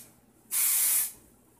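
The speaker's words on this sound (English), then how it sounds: "Volume Hairspray, again, the Ultime line." Volume hairspray from the Ultime line sprayed onto hair, one steady bright hiss lasting about half a second that starts and stops cleanly, close and loud against a quiet room with no talk.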